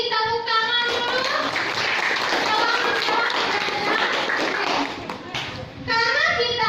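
A class of students clapping hands together in a classroom, brisk clapping mixed with children's voices and chatter, briefly dipping before resuming.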